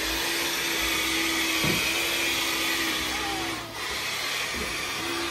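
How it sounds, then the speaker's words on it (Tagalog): A vacuum cleaner runs continuously in a hallway as a steady, loud motor whine and airflow hiss, dipping briefly about two-thirds of the way through before resuming. "nag-vacuum si Sam, guys, sa hallway."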